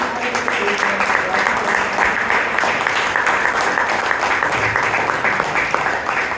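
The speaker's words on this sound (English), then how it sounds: "So please give a round of applause for Toastmaster Anand" Toastmasters meeting audience in Bangalore claps steadily for a member, a dense, even round of applause from a roomful of people lasting several seconds without pause.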